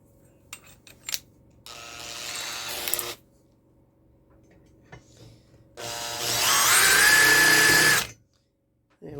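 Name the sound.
power drill drilling a hole in the elevator chassis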